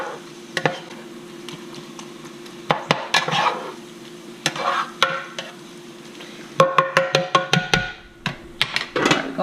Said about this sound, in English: I like to put it in and letting it cook with the ground beef